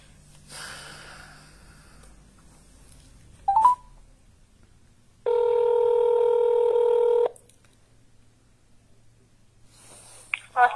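Phone keypad tones and a sustained multi-tone ring or dial signal lasting about two seconds, preceded by a brief click and faint breathing, as a number is dialed to call the police in a quiet room.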